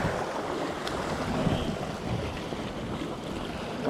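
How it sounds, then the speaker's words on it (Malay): Steady outdoor wind buffets the microphone during a lure casting session by the water, a continuous rumbling roar with no one speaking. "Sekarang angin menghadap sebelah aku so agak berlawanan angin"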